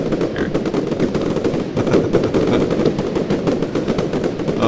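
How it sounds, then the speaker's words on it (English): Dense crackling fireworks in Roblox Lumber Tycoon 2 explode in rapid, overlapping bursts, loud and continuous like a barrage, with no pauses throughout. "Explosions!"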